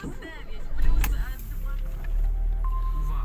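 A cold 1992 Ford Escort Mk5 estate engine cranks and catches, settling into a steady low idle that rumbles on close by, with a brief click and a faint whine along the way.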